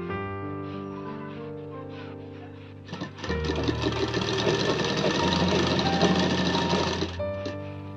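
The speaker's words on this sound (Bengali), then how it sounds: "সেলাই দিয়ে নেব সমস্তটা।" An electric sewing machine runs in a rapid, steady stitching burst partway through, stitching a skirt made from old jeans, with a quieter hum and motor tones before and after.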